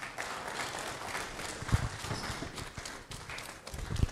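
Audience at a public lecture giving a round of applause, a continuous rush of many hands clapping with a few sharper, closer claps and low thumps standing out, no talk over it.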